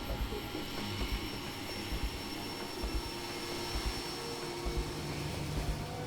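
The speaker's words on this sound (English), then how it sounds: "And then we do get scanned by a drone." Scanning drone hovering in the video game Rage, a steady whirring engine drone with a high whine above it and soft rhythmic low thumps pulsing roughly every second, continuous and fairly close.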